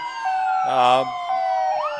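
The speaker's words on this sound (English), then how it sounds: "Coming up now is our brand new 2009 Seagrave Pumper" A 2009 Seagrave pumper fire engine in a town parade sounds its siren, a loud sustained wail with a rising sweep near the end, briefly overlapped by a voice.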